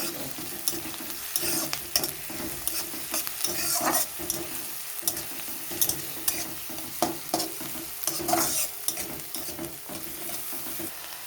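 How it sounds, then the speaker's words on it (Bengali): Garlic and onion fry in oil in a pan for vegetable pasta, with a steady sizzle under brisk, repeated stirring scrapes and clicks of a spoon on the pan. "রসুন আর পেঁয়াজটা কিছুক্ষণ একটু ভেজে নেব।"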